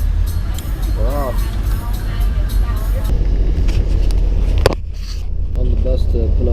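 Inside a Mekong Transport bus headed to Phnom Penh, a steady low engine rumble and road noise carry on throughout, with music and speech layered over it and a brief clatter near the end.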